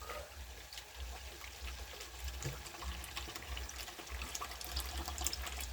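Water trickles and splashes steadily for several seconds as it is poured into a cooking pot, a continuous pouring sound close by with no voices.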